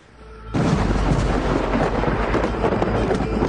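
Thunderstorm in a documentary about a storm-swept funeral: a deep rumbling roar of thunder with heavy rain starts abruptly after a faint opening and rolls on loud and steady.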